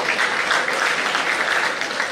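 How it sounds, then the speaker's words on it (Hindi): Steady, dense applause from an audience at an awards ceremony for meritorious students, even and fairly loud throughout the short stretch. "तालियां कम नहीं होनी चाहिए दोस्तों।"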